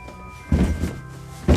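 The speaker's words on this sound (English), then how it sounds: "As if I can open the drawer." A drawer is yanked open among a pile of stored shoes, giving two hollow wooden thunks a second apart, loud and close, with a rattle between them and no talking.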